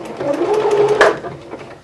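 A sewing machine stitches a fabric seam close by, a steady whirring hum with a brief sharper clack near the middle, running continuously without speech.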